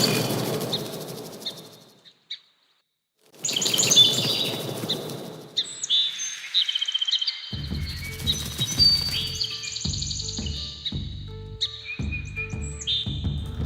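Sparrow chirps layered with fluttering wing flaps as game sound design, with bright high tweets in bursts, a short silent gap, then denser chirping over rhythmic low wingbeat thumps, clear and close.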